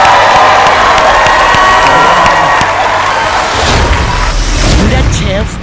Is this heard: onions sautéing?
no